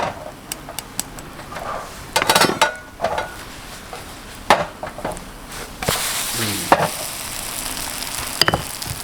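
Cha-om batter fries in a small, very hot pan, with steady crackling sizzle, occasional spatula scrapes and clinks of the pan at close range, and no talk.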